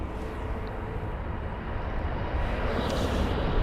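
Boeing 777-300 airliner at London Heathrow, a steady, loud broadband jet engine roar that swells slightly toward the end, heard alone without talk.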